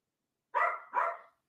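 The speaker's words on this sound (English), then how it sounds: "the little dog wants to start barking right now" A small dog gives two quick, close barks in succession, clear and alone against silence.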